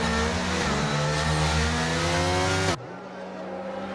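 Alpine race car engine in a racing video game at Silverstone, a loud sustained high-revving whine with rising pitch that cuts abruptly to a quieter drone near the end, no talk.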